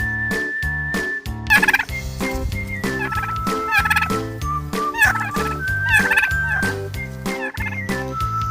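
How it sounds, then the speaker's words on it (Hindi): A turkey gobbles in several loud, rattling bursts spread across the clip, set over steady tonal background music. "ये है टर्की"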